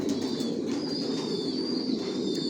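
Racing pigeons coo steadily in a loft in a dense, overlapping chorus, a low throaty murmur that continues throughout with a faint high tone above.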